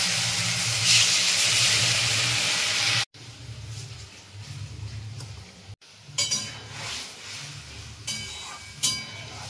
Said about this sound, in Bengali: বাকিটা একটু জল দিয়ে একবারে ডালটা দিয়ে দিই।